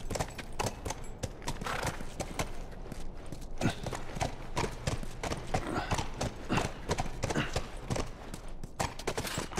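Horse hooves clip-clop steadily and close by in The Last of Us Remastered, a dense run of hoof strikes lasting throughout, with faint voices in the background.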